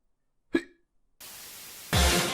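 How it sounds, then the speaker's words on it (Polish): A single sharp hiccup pops out of silence in a machinima film, short and close, followed by a stretch of quiet and then a bed of hissy static noise that grows louder. "a także sposób na poradzenie sobie z czkawką"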